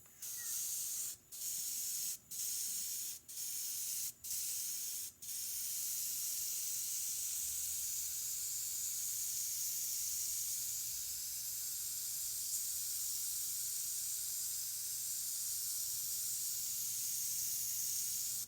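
A PointZero airbrush with a MAC valve sprays paint onto a fishing lure with a sharp, steady hiss, cut by a few quick pauses early on, then running unbroken.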